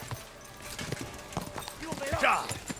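A horse's hooves clip-clop steadily on a road in the game Kingdom Come: Deliverance 2, a close, rhythmic trot heard under ongoing voices and game sounds.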